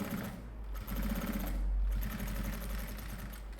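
Sewing machine running a safety seam along the flap of a fabric toiletry kit, a steady close mechanical whirring and rapid needle chatter with brief changes in speed, no speech.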